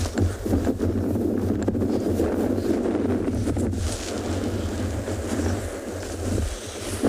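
Steady wind buffeting an outdoor microphone at a penguin beach, a loud continuous low rumble with gusty swells that lasts the whole stretch, with no voices over it.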